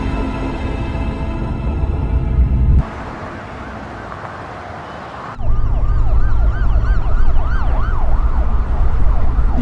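A police car siren wails loudly in a rapid rising-and-falling warble, joined by a steady tone and vehicle rumble, cutting out briefly before returning close and strong.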